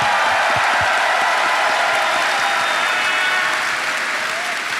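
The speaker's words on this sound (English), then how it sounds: "please, one more round of applause for the amazing sound team" Audience applause at a gaming convention fills the hall, a dense and steady clapping from a large crowd that holds at a constant level throughout, with faint cheering mixed in.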